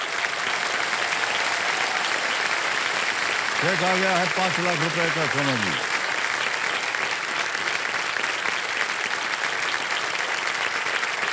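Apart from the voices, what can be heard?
studio audience applause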